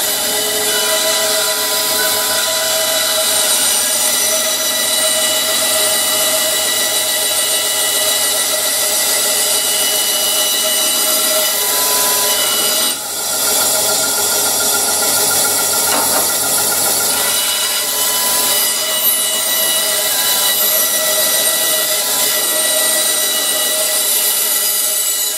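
A power saw runs loud and steady, cutting wood on a miter sled jig, with a continuous whining buzz and a brief dip midway before the cut resumes.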